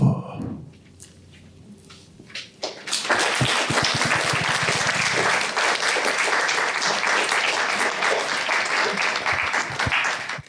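Audience at a poetry reading about war breaks into loud, sustained applause after a quiet moment of speech, dense clapping continuing steadily to the end.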